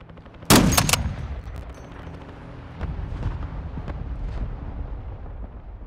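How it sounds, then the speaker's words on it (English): A friendly mortar strike in Call of Duty: Modern Warfare II, with a sharp, loud close impact near the start, followed by a lower rumble and a second, more distant barrage of thuds and blasts. "Friendly mortar strike inbound."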